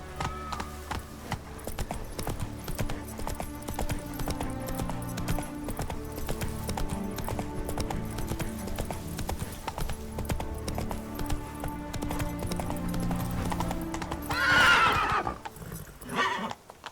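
In The Witcher 3 video game, a horse's hooves clip-clop in a steady gallop under layered game music and ambience, and a loud neigh comes near the end.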